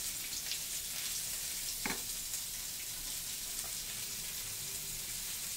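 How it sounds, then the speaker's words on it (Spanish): Onions browning in oil in a pan give a steady, close sizzle that stays even throughout, with one brief stir or scrape near the middle and no voices. "vamos a aprovechar lo mismo aceite que tiene acá para dorar primero las cebollas"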